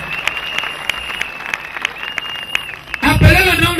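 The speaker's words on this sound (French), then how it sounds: "Clap for Jesus Christ." A crowd at a religious crusade applauding, rapid rhythmic clapping with sharp claps standing out, then a loud voice cuts in near the end over the clapping.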